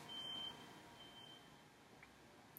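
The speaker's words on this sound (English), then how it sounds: "There's a fire alarm going off somewhere" A fire alarm sounds somewhere far off, giving a faint, thin electronic tone that rises briefly and then fades under a quiet indoor room hush.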